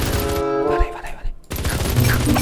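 Rapid bursts of video game gunfire from a mining-themed mini game, loud and dense, briefly pausing before resuming, with someone talking over the shots.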